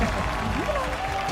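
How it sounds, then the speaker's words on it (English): A crowd in a movie scene cheers and applauds, a dense, continuous roar of clapping and voices filling the whole short stretch, with speech mixed in. "Everybody's cheering them on."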